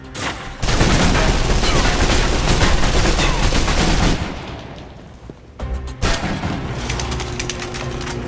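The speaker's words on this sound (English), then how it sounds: "Now for your submachine guns." Submachine gun fire in the video game Alpha Protocol, dense rapid bursts in close quarters, loud and sustained for several seconds, then a lull followed by further shots and sharp impacts.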